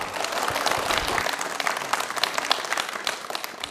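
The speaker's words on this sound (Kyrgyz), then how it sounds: "Мына сага кол чабуулар" A small group applauds a young child, a burst of steady, fairly close clapping lasting a few seconds with no talk over it.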